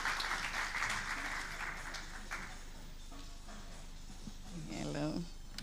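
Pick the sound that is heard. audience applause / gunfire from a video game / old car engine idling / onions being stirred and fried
audience applause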